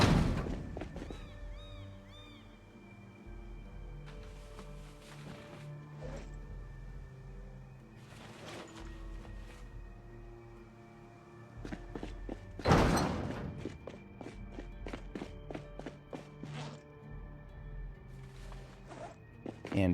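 A car trunk in the zombie survival game Project Zomboid is loaded with remote pipe bombs, with several soft thuds and rustles of items going in, then one loud slam of the lid near the end, followed by more scattered knocks.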